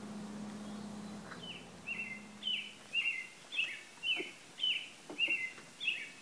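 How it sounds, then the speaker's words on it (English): Birds in roadside trees chirp about nine times in bright, evenly spaced calls. A low engine-like drone fades out in the first few seconds, leaving the calls clear against quiet background hiss. "Birds chirping in the trees?"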